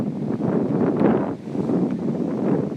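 Wind gusting across Showa Memorial Park (Showa Kinen Park) in Tachikawa, Japan, a steady, close, buffeting rumble on the microphone that swells and dips slightly throughout, with no voices.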